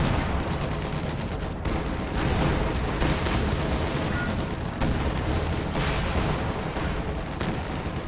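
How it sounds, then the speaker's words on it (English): Su-85 tank guns fire in a video game battle, a dense, continuous barrage of booming shots and rumbling blasts layered over one another at high volume throughout. "the Su-85s firing at it from across the ridge"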